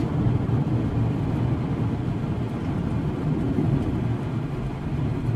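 Several cars lapping a race track during a GAC Empow track day, giving a steady, dense engine and road roar that stays loud and even throughout with no talk.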